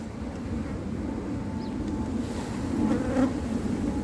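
Honey bees swarm around an open hive during a transfer into a new Flow brood box, a dense close buzzing hum that holds steady with a slight swell near the end.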